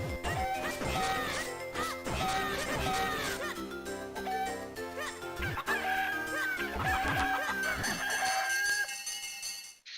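Chickens clucking and squawking in The Minish Cap randomizer video game, several bird calls repeating over busy game music and sound effects, loud and continuous before fading out at the end.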